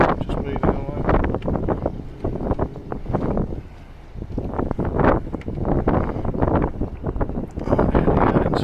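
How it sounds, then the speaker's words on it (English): Fresh, cold wind buffets the microphone in loud, gusting roars as a boat pulls away from its moorings on the Medway near Rochester. "Wind's fresh, quite cold"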